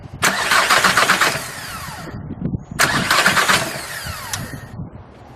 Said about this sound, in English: Okay, crank it, but don't let the engine start.